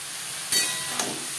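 Data greens hit a pan of browned onions and fry with a loud, steady hiss, punctuated by two brief, sharp bursts of sizzle.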